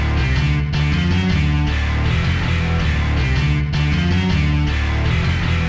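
Dense, loud rock band passage from the verse of a song, with distorted guitar and bass playing a slowed, heavy riff alongside drums, continuous and sustained with no vocals.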